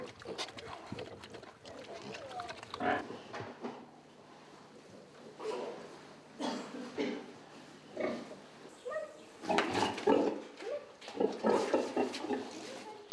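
Sow Judy, a big pig on a farm kept with her piglets, gives repeated grunts and snorts in several bursts, mixed with voices talking throughout.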